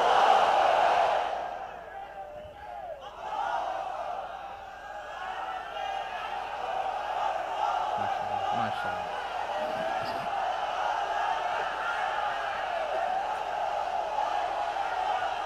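A large crowd at an open-air Islamic sermon on a parade ground in Chattogram shouts the takbir together, a sustained massed roar of voices that swells and holds for many seconds.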